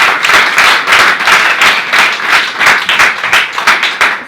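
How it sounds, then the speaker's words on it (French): Loud, dense audience applause at a union congress speech honoring Pierre Manquet, rhythmic clapping swelling steadily for several seconds without talk. "on peut l'applaudir vraiment"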